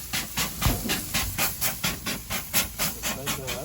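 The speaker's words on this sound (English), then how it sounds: "you can use one of these bottle sprayers. Just tame that fire down." Rapid rhythmic pumping hiss of a bottle sprayer misting water onto a grill fire, about a dozen short close bursts in a regular beat, with a brief spoken remark.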